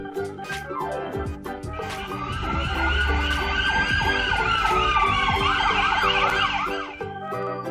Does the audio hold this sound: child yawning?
no